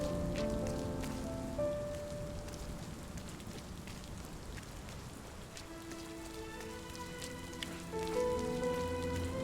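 Rain falling in the video game RiME, a steady soft patter of drops on surfaces with a gentle, continuous hiss, accompanied by sustained melodic musical tones.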